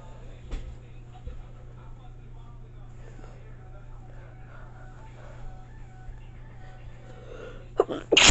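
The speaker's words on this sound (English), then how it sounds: "I just sneezed" A man lets out a single sharp sneeze near the end. It comes as a sudden loud burst after a long stretch of quiet room hum with faint shuffling.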